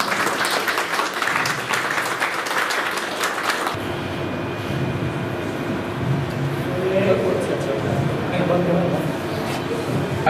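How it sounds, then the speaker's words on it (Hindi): A crowd claps in a dense burst of applause at an employment fair for people with disabilities at CRC Gorakhpur, then after about four seconds the hall drops to a quieter room murmur. "तालियों से स्वागत करें।"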